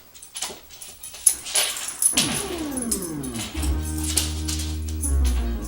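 A dog moves about close by indoors, with short whimpers and yips and jangling tags, before an NES game of Gyruss starts playing loud chiptune music that takes over the rest.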